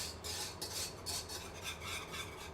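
A metal whisk scrapes and swishes through a simmering garlic parmesan sauce in a pan, rhythmic strokes repeating about twice a second, close and soft, with no talk.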